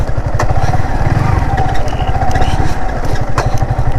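A motorcycle engine chugs loudly and close on an off-road beach ride, a rapid throbbing putter that holds steady throughout.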